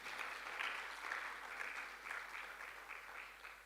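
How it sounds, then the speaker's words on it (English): Audience applause at the Limpopo PMA, a sustained wash of clapping from a crowd that holds steady for several seconds at moderate distance, with no voices over it. "One more round of applause as he leaves."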